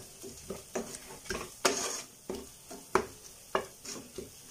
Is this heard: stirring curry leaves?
yes